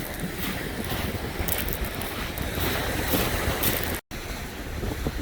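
Gusty wind and lapping waves along the Lake Erie shore at Headlands Dunes State Park, a steady broadband wash with wind buffeting the microphone throughout and a momentary dropout near the end.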